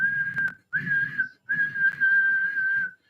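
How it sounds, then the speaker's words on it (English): Wind whistling through a window: a steady, high tone in three long stretches with short breaks, fairly loud and close, with no voices. "can hear the wind from the window, and it's whistling"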